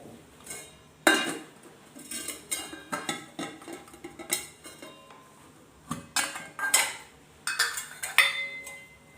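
Steel spoon clinking and scraping against a steel bowl as mango pickle is scooped in, a series of close, sharp metallic clinks and taps over about nine seconds with no talking.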